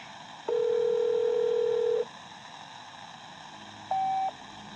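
In the Modern Warfare III Zombies game, a telephone line gives a steady dial tone lasting about a second and a half, then after a quiet hiss a short, higher-pitched voicemail beep sounds, both clear and isolated.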